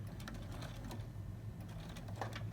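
A sewing machine stitching the casing of a fabric drawstring backpack, a quiet steady mechanical whirr with fast rhythmic needle clatter, faint and continuous without talk.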